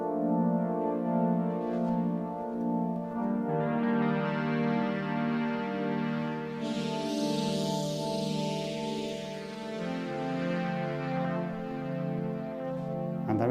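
A Yamaha Montage M synthesizer sustains a rich FM-X chord whose bright upper texture swells and sweeps as the modulator levels are pushed up, then settles back, continuous and close with no voices.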